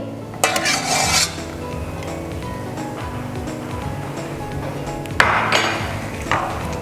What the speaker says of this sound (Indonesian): Oke, kita aduk.